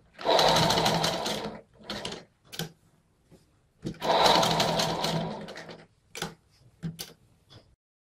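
A sewing machine stitches a Patiala salwar in two long, loud runs of rapid mechanical chatter, broken by short stuttering bursts and ticks as the fabric is guided and adjusted.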